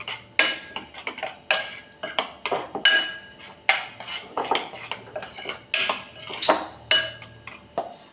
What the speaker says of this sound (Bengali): এই সমস্ত মশলাটাকে আমি খুব ভালোভাবে মেশাবো।